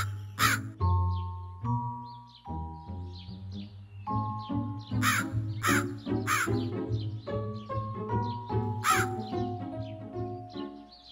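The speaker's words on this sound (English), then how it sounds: "a thirsty crow fell all over the fields looking for water" A crow caws repeatedly in an animated children's fable, sharp harsh calls over a background of musical tones and melody.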